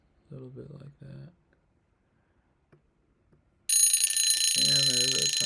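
A timer alarm going off abruptly after brief talk and a quiet pause, a loud, steady electronic beeping tone that starts suddenly and continues to the end, with a voice speaking briefly over it.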